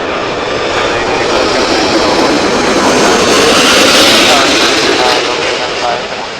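Qantas Airbus A380 jet engines at Los Angeles International Airport, a loud, close, continuous broadband roar that swells and then eases slightly as the aircraft passes.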